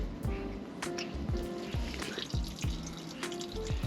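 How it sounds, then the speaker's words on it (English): Water trickles and drips steadily from an oversized campervan waste pipe, with close, irregular plinks and splashes over a faint wet background. "As you can see, it's just a trickle coming out."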